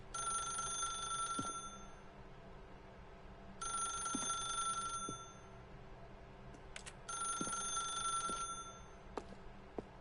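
A telephone rings in The Stanley Parable video game: three bursts of a bright electronic bell trill, each lasting over a second, with short pauses between them. The ringing is moderately loud over a quiet background and no one speaks.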